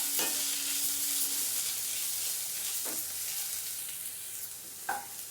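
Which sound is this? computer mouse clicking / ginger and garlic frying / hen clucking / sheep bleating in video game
ginger and garlic frying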